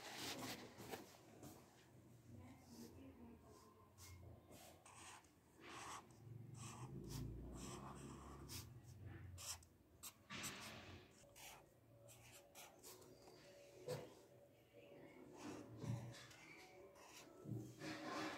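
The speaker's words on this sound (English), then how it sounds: "here I am going to write a slogan" Pen or marker scratching across paper in a children's art class as a slogan is written, with a run of short strokes and scrapes, close and quiet, broken by small pauses and taps.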